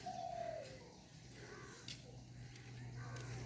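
Birds coo softly back and forth in a quiet rural setting in Bikrampur, low dove-like calls answering one another from different sides over a faint background hum.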